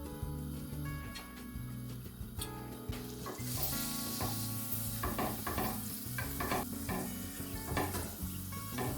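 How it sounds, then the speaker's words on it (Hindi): Butter and olive oil sizzle steadily in a pan, close and soft, with a spoon scraping and stirring through the fat in frequent clicks and scrapes. "ये हम बटर इसमें यूज़ कर रहे हैं और इसके साथ थोड़ा सा ऑलिव ऑयल डालेंगे ताकि तो बटर जले ना"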